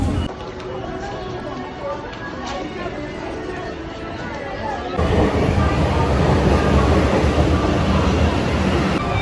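Steady broadband rumble of an underground metro train in Kolkata, heard from inside a carriage, growing louder and rougher partway through as the ride picks up, with a faint murmur of passengers' voices beneath it.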